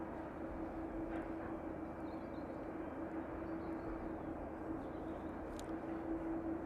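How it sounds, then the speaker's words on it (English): A West Atlantic ATR turboprop arrives from Guernsey on an evening approach, a steady distant drone with a sustained engine tone over broad rumble, fairly faint and unbroken throughout. "the West Atlantic ATR, making its way in from Guernsey this evening"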